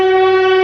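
A steady, loud train horn tone sounds continuously at a station at night, one sustained blast with strong harmonics and no break.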